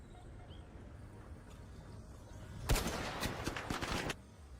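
Sniper gunfire in the ARC Raiders video game: a sharp loud shot cracks out, followed by a rapid burst of overlapping gunfire and impacts lasting just over a second, then a fade back to quiet game ambience.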